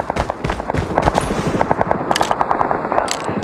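Rapid automatic gunfire in Call of Duty Mobile from a CAR 9 submachine gun, sharp loud shots in tight quick bursts that run almost continuously, close and punchy.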